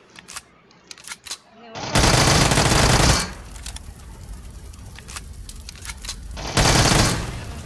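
Machine gun fire in a vehicle-combat video game, loud sustained bursts of automatic fire at two points with scattered single shots between, under chatter from players.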